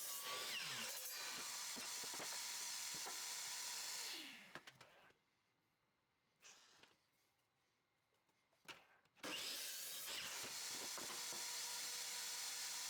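A miter saw set to 3 degrees cuts through wood offcuts, giving a loud whining, rasping cut at the start and again near the end, with a quiet gap between the two passes.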